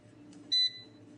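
An air fryer timer gives a single short electronic beep, clear and fairly close over a faint background hum.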